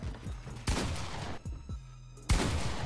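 Loud gunfire bursts from the video game Fortnite, with two sharp, broadband shots standing out against a busy background of game audio.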